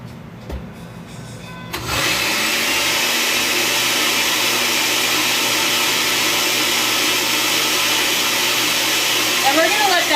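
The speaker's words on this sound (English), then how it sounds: "it's going to get loud here. I apologize because I have an old blender." An old blender whirs loudly with water and almond butter, kicking in after about two seconds of quiet and then running as a steady, close, harsh roar to the end.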